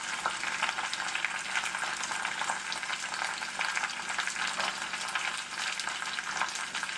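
Spinach sizzles steadily in a pan for an omelet, a continuous moderate frying hiss with faint stirring, no voices.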